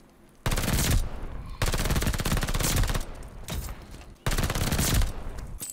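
Rapid full-auto PPSh-41 fire in the video game Call of Duty: Vanguard, three long loud bursts separated by short pauses, each a dense rattle of shots.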